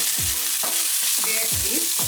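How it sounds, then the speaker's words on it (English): Ginger hits hot oil in a pan and crackles with a dense, bright sizzle, broken by a few low knocks and scrapes from stirring, close and with no speech. "Now we are going to add more oil in our pan and then throw in our ginger."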